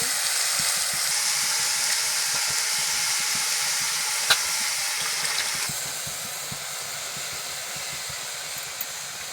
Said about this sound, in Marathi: पाणी टाकायचं नाही तेल शिजायला तेलामध्ये ठेवून द्यायची